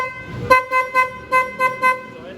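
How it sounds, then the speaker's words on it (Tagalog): Arrow horn fitted to a Suzuki Raider 150fi motorcycle, sounding five short bright toots in a quick, even rhythm, loud and close, with no talking. "So para tayong e-bike kasi sa busina natin."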